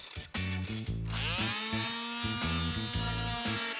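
A small Dremel rotary tool whirs and buzzes in uneven bursts as it sands the edge of a metal whisker pole tube, its pitch rising and dropping with the pressure.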